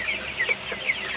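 Broiler chickens clucking in a shed, a handful of short, bright clucks and soft calls spaced irregularly over a low, steady background murmur.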